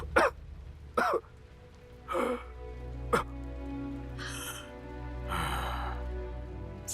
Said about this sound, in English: Since when have you been coughing up blood?